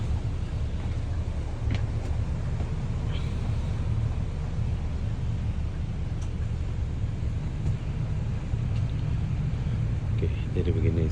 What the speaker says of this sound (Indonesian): jadi begini suasana dari atas bus 2 tingkat ini